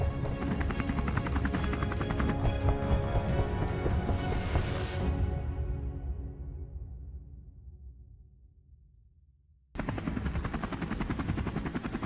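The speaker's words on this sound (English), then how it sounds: "Amidst the noise of the propellers, we kept firing, aiming at the pigs below." Steady rotor and engine roar of a helicopter carrying hunters over open plains during an aerial wild boar cull, loud and continuous, fading away toward silence before the roar abruptly returns at full strength.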